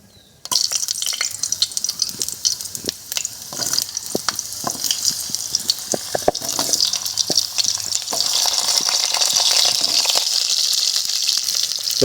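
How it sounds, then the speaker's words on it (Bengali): Sliced ridge gourd and potatoes sizzle and crackle as they land in hot oil in a pan, a steady close frying hiss that builds and thickens over the seconds, with stirring scrapes and no voices. "আমি এখন কেটে নেওয়া ঝিঙে আর আলুগুলো তেলে দিয়ে দেব।"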